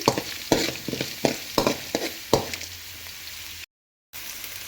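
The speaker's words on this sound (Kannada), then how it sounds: "ಸ್ವಲ್ಪ ಹಸಿ ಹಸಿ ಹೋಗೋವರೆಗೂ ಫ್ರೈ ಮಾಡ್ಕೊಳ್ಳಿ" Bitter gourd curry fries and is stirred in a pan, giving a steady sizzle broken by a series of regular scraping strokes of the spoon, close and moderately loud, with a short gap of silence near the end.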